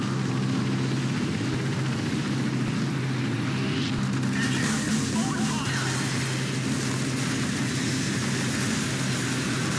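A helicopter in the video game Hitman Absolution drones steadily with a low rotor thrum and engine whine, loud and constant throughout, its pitch shifting slightly as it passes.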